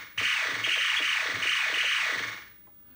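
Zaxxon arcade board shot sound effect triggered once: a hissy noise burst that repeats in a fast pulsing series of swooping sweeps, loud and close, then cuts off.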